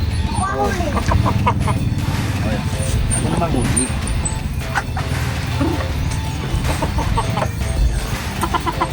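Chickens cluck and a rooster calls nearby, with repeated short squawks scattered through the scene while people talk over them and a car hums in the background.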